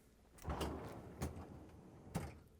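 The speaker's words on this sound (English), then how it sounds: "To get it apart, we need to open the freezer door." Freezer door on a Whirlpool, KitchenAid or Maytag refrigerator opening, giving a few soft thumps and seal-release clunks spread over a couple of seconds, fairly close, with no talk.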